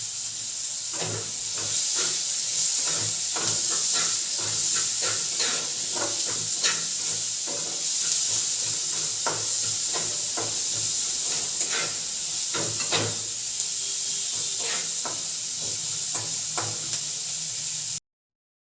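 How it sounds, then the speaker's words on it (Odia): Chopped onions frying in hot mustard oil with whole spices, a steady close sizzle and hiss with scattered crackles and pops, running continuously before cutting off abruptly. "ମୁଁ ଏଠାରେ ପିଆଜକୁ ଗୋଲ୍ଡେନ୍ ବ୍ରାଉନ୍ କରି ଭାଜି ନେଇଛି।"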